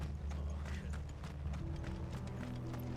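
Rapid galloping hoofbeats of horses in Final Fantasy XVI pound over a steady low rumble and mechanical clatter, dense and continuous throughout.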